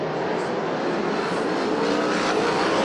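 USAC National and CRA sprint cars race around the Perris oval, their engines forming a continuous loud roar heard from trackside without distinct breaks.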